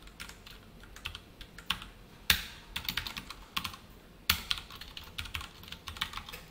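Computer keyboard keys typed in quick, irregular bursts of close clicks while entering code, with a couple of sharper, louder key strikes standing out and no voices.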